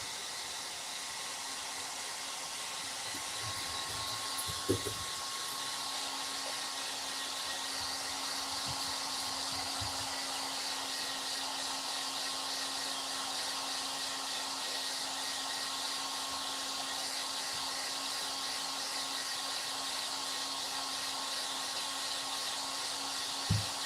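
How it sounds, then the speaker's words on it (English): A hair dryer blow drying wet paint, a steady continuous whir with a constant hum running throughout, moderately loud and close, with a few faint bumps and no talk. "I'm gonna blow dry real quick too"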